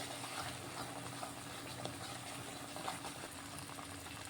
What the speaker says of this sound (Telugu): ఇదైతే ఫ్రై అవుతుంది